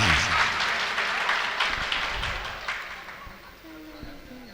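An audience at a mushaira poetry gathering in Kundarki breaks into clapping that starts fairly loud and gradually thins out and fades over a few seconds.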